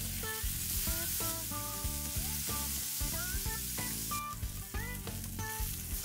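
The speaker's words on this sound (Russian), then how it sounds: "как только сковорода разогреется, выкладываем жариться свиную грудинку" Pork belly frying in vegetable oil in a hot pan, a steady dense sizzle with crackling pops throughout, close and loud over music, with no voices.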